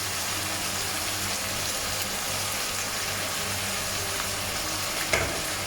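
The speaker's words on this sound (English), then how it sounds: "Now I'm going to add the ginger garlic paste." Mutton fries with ginger garlic paste in a pan for an Indian daal gosht, giving a steady, close sizzle throughout, with a brief metallic clank near the end.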